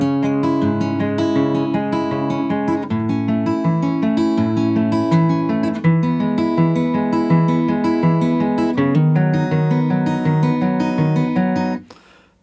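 Fingerpicked acoustic guitar plays a looping chorus pattern from a song, steady plucked notes ringing together over about twelve seconds, clear and close, with no voices.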